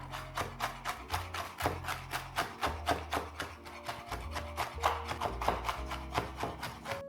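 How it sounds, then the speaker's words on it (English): A large knife chops pistachios on a cutting board in quick, even strokes, a quiet run of sharp taps repeated steadily throughout with no voices. "So I've just finished chopping the pistachios"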